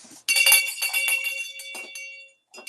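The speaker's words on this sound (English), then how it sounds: "Wait, I gotta ring my bell." A hand bell rings close by, struck in a quick series of bright, shimmering peals that linger and fade between bursts, then sound again briefly at the end.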